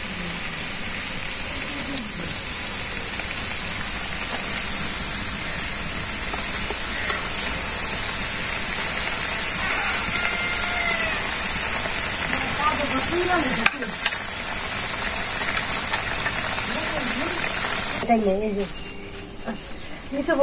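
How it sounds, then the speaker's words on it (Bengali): A steady, close bubbling sizzle comes from a pan of simmering curry made with coconut, mustard and nigella seed as fried puti fish are added, crackling continuously throughout. "যে ভাজা রাখছিলাম মাছগুলো এখন দিয়ে দিব।"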